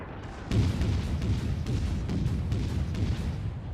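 Warship main guns firing in World of Warships aboard the cruiser USS Charleston (C-22), a sudden loud booming salvo followed by continuous rumbling, layered naval gunfire with repeated thuds, no voices.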